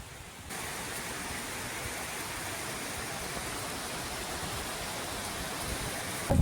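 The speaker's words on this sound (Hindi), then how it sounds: "अभी यहाँ पर कुछ इस कदर बारिश हो रही है" Steady, dense rain pours down on a dairy farm in a constant broadband hiss, heavy and close, with no voices throughout.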